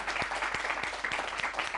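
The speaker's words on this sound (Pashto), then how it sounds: "خیلی چک چک ورته وکړئ." An audience applauds with a rapid, dense wash of clapping, moderately loud and continuous, and no talk over it.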